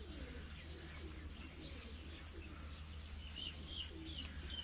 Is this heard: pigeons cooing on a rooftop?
yes